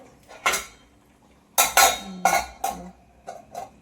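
A dosa griddle is set down on the stove among other cookware, producing a few sharp metallic clanks and clinks close by, separated by brief quiet gaps, with no speech.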